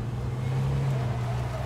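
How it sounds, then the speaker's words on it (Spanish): A car engine in the video game H1Z1 hums steadily at a moderate level, an even low drone lasting under two seconds without any speech. "Voy a ponerte el coche delante."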